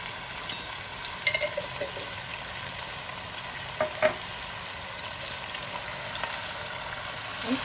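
Chicken frying with turmeric and coriander powder for a Punjabi dhaba-style masala chicken, a steady crackling sizzle throughout, broken by a few louder clanks and scrapes of stirring near the pan.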